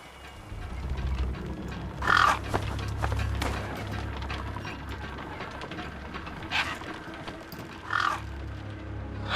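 In the game Beyond a Steel Sky, scavenger birds in a wasteland give harsh crow-like caws in a few separate bursts, moderately near, over a low rumbling ambience with faint scuffing movement.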